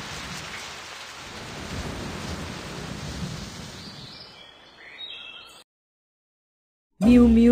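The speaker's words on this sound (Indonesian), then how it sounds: "Badai sudah turun." A cartoon thunderstorm brings steady heavy rain with rolling thunder that fades over several seconds, then brief silence before a sudden loud burst of sound at the end.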